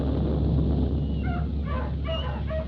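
Radio drama sound effect of cats meowing and dogs whimpering and yipping, a short flurry of high animal cries over a low hum that begins faintly and grows busier toward the end.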